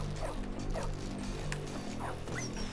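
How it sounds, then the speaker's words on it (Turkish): A dog barks and yips in the video game Bully, short repeated calls over a steady background music bed, moderately loud and close. "Aha köpek var lan oyunda."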